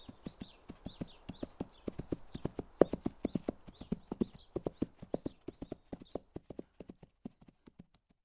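Hooves of a centaur carrying a rider clip-clop in a steady, even walking rhythm, soft and fairly close, with no talking.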